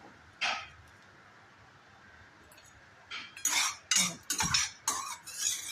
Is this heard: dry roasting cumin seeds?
yes